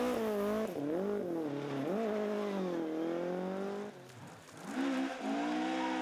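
Rally car spinning out on a stage at an Irish rally: a loud, close engine drones and wavers in pitch, dips briefly and then revs back up, with tyre noise mixed in.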